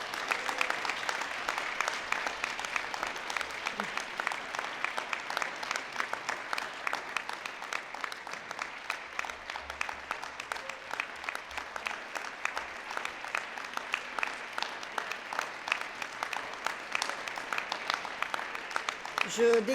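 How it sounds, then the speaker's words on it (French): A graduation audience at a Faculty of Communication degree ceremony applauds parents and friends with steady, dense clapping that fills the whole stretch at a fairly soft, even level, without fading. "Je vous invite à les applaudir chaleureusement."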